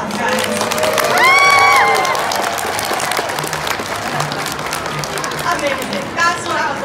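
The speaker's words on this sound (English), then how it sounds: "Let's give her a round of applause, guys." A crowd at a sea lion show in a shopping mall claps and cheers, swelling early then settling into scattered applause, with children shouting and an animal's calls rising through the noise.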